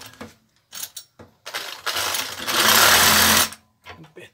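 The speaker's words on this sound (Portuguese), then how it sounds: "Então eu vou cortar com essa bichinha aqui. Serra Sabre." A cordless 18-volt reciprocating saber saw cuts wood in short bursts, then runs in a sustained, loud buzzing stretch before stopping. Brief knocks and handling sounds are heard between cuts.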